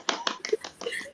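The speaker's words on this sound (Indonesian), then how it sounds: "Tepuk tangan." A few sharp hand claps from an audience at a campus leadership interview session, five or so quick, close-sounding claps in about a second, fading out.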